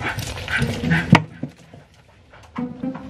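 A blue-nose pitbull whimpers and yips in short high-pitched bursts, close by, with a sharp sound near the middle followed by quieter pauses and a few more whines.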